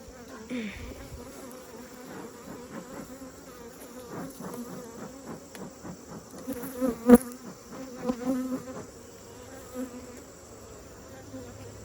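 Bees hum and buzz continuously close by around a hive being checked for honey supers, with a rising, wavering drone and a few louder passes near the middle.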